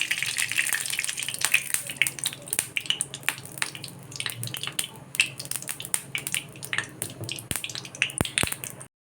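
Oil pours and sizzles into a kadai heating on a gas stove for a marinated dish, a steady wet hiss with scattered crackles and drips, close and moderately loud, with a few sharp pops near the end.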